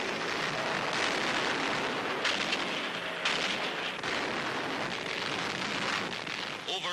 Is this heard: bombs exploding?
yes